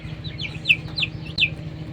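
Chickens kept for beak trimming cluck softly in a few short, high calls over a low steady hum, fairly faint and close by.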